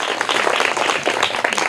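A classroom group claps for a student's correct answer in a school quiz, a short burst of brisk, uneven handclaps, fairly close and loud, with no talk over it.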